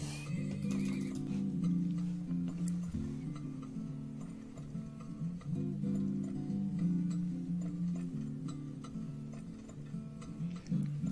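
A horse whinnies in the desert oil-drilling video game Turmoil. Faint neighing and soft clip-clop sit over a looping game tune with a ticking rhythm, steady throughout and without talk.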